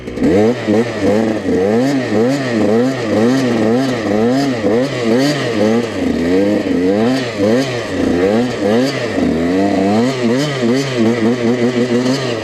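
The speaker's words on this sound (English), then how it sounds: "Yo, let's do a daily donut" A supermoto motorcycle engine revs loud and close while the bike spins a donut, the pitch swinging up and down in quick rhythmic waves with a rattling, buzzy edge throughout.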